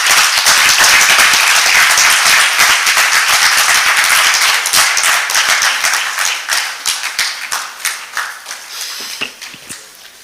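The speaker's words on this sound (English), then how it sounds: "Another round of applause for Professor Grace Muhendo" An academy of science audience at a fellows' induction and public lecture claps loudly in a thick burst that gradually thins out, with the last scattered individual claps fading near the end.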